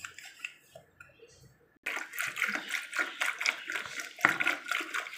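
Water runs from a kitchen tap while taro root is being prepared, starting after a quiet moment and then pouring in a steady, gently splashing stream close by.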